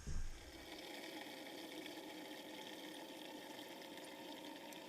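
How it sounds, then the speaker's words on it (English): A whirlpool pump circulates ESB beer wort during cooling on a home brew day, a steady watery churning hum that runs unbroken throughout with no voices. "just the whirlpool going now and cooling it down to 35 degrees, ready to go into the fermenter."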